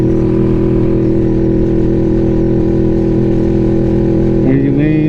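A Kawasaki motorcycle under way sends out a loud, steady engine drone that holds nearly constant, with a slight shift in pitch near the end and no talk over it.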